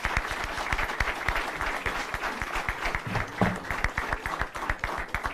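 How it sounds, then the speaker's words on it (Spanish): Audience in an auditorium at a Spanish-language book presentation gives a sustained burst of dense applause, steady and fairly loud, with no talking over it. "Lo recibimos con un fuerte aplauso."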